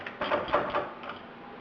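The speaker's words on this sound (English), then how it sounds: "So I just put it in the mill. Tighten it down. I'll use a ratchet wrench again." A ratchet wrench tightens a muzzle brake part in a milling machine, giving a few quick, close clicking bursts in a short uneven rhythm.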